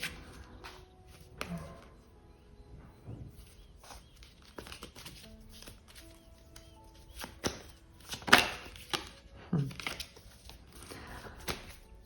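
Tarot cards shuffled by hand in a quiet room, giving soft, irregular papery riffles and slaps with a few sharper snaps, close and fairly faint, with no talking.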